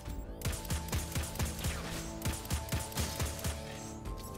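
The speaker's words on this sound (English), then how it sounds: "An automatic scout rifle." Automatic scout rifle firing in Destiny 2 gameplay: a rapid, steady stream of sharp shots, about three per second, loud and close over a dense game soundscape, with no talking.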